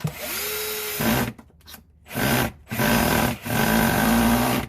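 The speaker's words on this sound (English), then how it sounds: "That's where my drill isn't powerful enough." A power drill whirs in several long bursts with short pauses between, loud and close, straining as it drives in screws.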